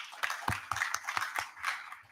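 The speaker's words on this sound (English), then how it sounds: "A round of applause for Ezekiel." Scattered clapping from an audience at a housing show, honoring a speaker named Ezekiel, thin and uneven with irregular claps rather than full applause, fairly quiet throughout.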